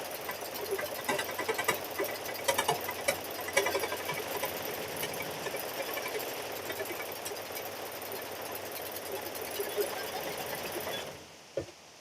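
A hoop quilting machine stitches a grandkid's Christmas quilt with a fast, steady mechanical whirr and needle chatter for most of the stretch, then stops abruptly, followed by a single faint knock.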